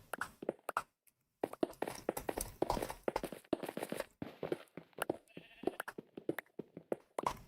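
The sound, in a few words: sheep bleating in a video game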